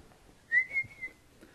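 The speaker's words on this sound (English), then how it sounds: "Sorry if my whistling is fucking annoying." A person whistles a short, thin tune, a single faint sustained note that bends slightly in a quiet setting during a Call of Duty Black Ops gaming session.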